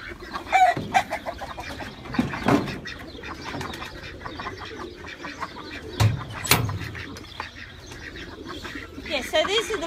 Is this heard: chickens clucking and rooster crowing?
yes